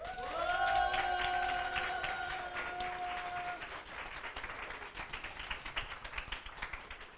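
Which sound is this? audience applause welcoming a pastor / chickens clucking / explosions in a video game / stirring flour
audience applause welcoming a pastor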